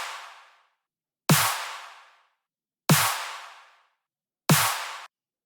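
Dubstep riddim snare drum sample, EQ'd, struck alone three times at a steady spaced rhythm, each a crisp noisy crack with a short low thump and quick decay, following a fading tail from an earlier hit.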